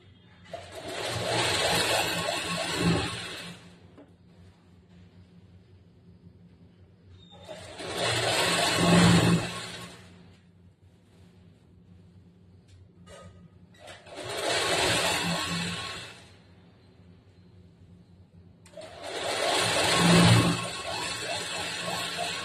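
A sewing machine stitching the side slit of a churidar runs in four separate bursts of steady, close whirring, each a few seconds long, with quiet pauses between them.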